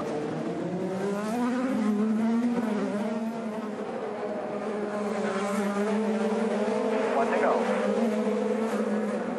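IndyCar race cars roar through the final lap on the Nashville street circuit, a loud sustained engine drone with shifting pitch, under steady commentator talk.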